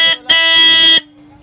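A short toot and then a longer loud, bright car horn blast lasting under a second, close to the microphone, followed by quiet.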